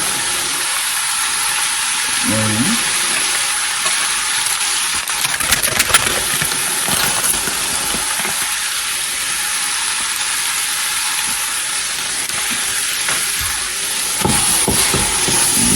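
Homemade chili sizzles loudly and continuously in a pot while a spoon stirs it, with steady hissing broken by occasional scraping knocks.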